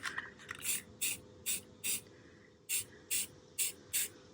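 An aerosol spray paint can is sprayed onto a lamp in light coats: about nine short, sharp hissing bursts in an uneven rhythm, close and fairly loud, with brief gaps between them and no talk.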